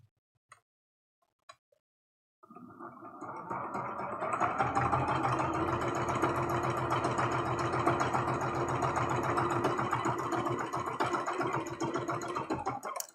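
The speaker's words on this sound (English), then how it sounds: "And then we're going to sew this set together." After a few faint clicks, a sewing machine runs continuously, stitching heart rag quilt blocks into rows with a steady, close whirring motor hum.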